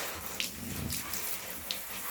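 Shower head spray running steadily over a dog during a bath at home, a continuous broad hiss with a few brief splashy bursts as the water moves across the coat.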